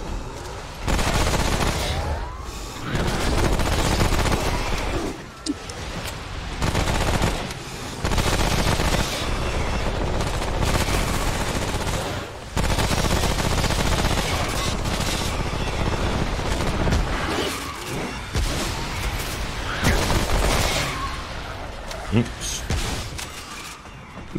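Enemy gunfire in the game Remnant: From the Ashes roars almost without a break, loud, dense rapid shooting and booming impacts with brief gaps, and a person talks over it at times.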